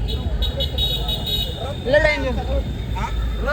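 Vehicles pull away one after another in a line through a crowded street on a Saturday night, with a couple of short horn toots over steady traffic rumble and voices.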